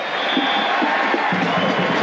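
A big stadium crowd at a 1985 USFL football game between the Oakland Invaders and Birmingham Stallions roars in a steady, dense wash of cheering that holds at a constant loud level throughout.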